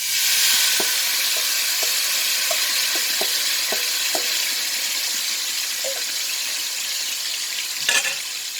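Olive oil sizzles loudly in a pan as food hits it, a steady close hiss of frying with small clicks and pops scattered throughout and a brief louder spatter near the end, no voices.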